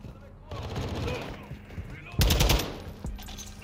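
SCAR rifle fire in Modern Warfare 2 played in third person, rapid bursts of loud gunshots with a strong burst near the end, set against background game noise.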